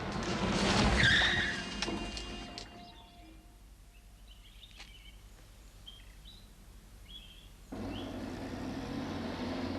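A car's tires skid loudly on the road as the brakes are hit, a brief harsh squeal near the start, followed by quieter ambience with faint birdsong.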